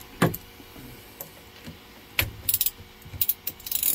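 Ratchet fitted with a 9/16 socket loosens a battery cable on a Sea-Doo boat during winterizing, giving scattered knocks followed by short clusters of quick ratcheting clicks, close and fairly quiet.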